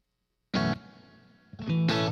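An electric guitar set with heavy, intense reverb strikes two loud chords, each with a long ringing tail that lingers between them, with no talk over the playing.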